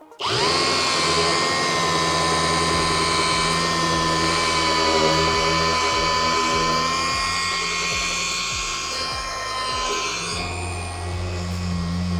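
A machine polisher with a pad working a smudge out of car paint, a loud, steady high-pitched motor whine with a faint rhythmic pulsing underneath, running continuously up close.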